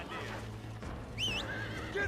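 A horse in a video game lets out a shrill, wavering whinny near the middle of the clip, over a steady low hum and game background noise. A few fainter high calls follow.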